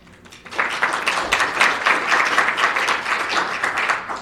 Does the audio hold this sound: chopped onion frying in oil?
no